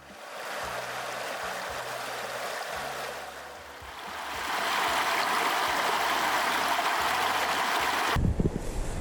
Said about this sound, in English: you get a nice little rush of water coming down right under the road there